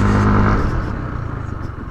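A Yamaha Aerox S 155 scooter from 2020 slows under rear braking without ABS, its engine note loud and close at first, then dropping to a fluttering, pulsing idle as it settles.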